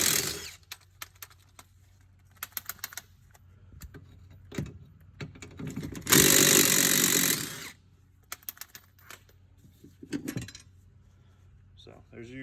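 A power tool works a U-bolt off a Club Car golf cart axle in short bursts, with one long loud whirring run in the middle, clanks of metal parts between, and someone speaking at times.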